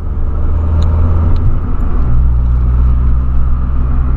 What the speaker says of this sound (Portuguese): Ultimamente eu tô andando tão de boa com o carro, rapaziada.